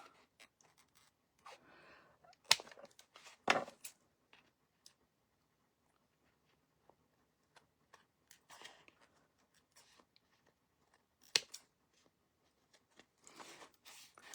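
Material for a thrifted frame makeover being cut with scissors or a penknife, a few sparse, close snips and scrapes separated by long quiet gaps.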